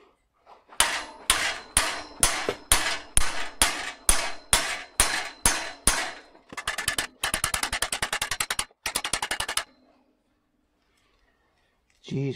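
Loud, close metallic hammer blows striking a bicycle bottom bracket to remove it: about a dozen evenly spaced heavy strikes, then a rapid burst of lighter quick taps, ending in near silence.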